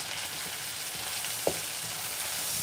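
Coarsely chopped garlic frying in butter gives a steady, close hiss, broken once by a single short clink of a utensil against the pan, with no talking.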